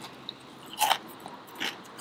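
Two crisp crunchy bites of deep-fried fish close to the mic, a loud crackling bite followed by a second softer crunch, with no talking.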